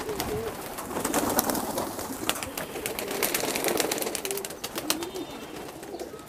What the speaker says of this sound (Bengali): কবুতর নামছে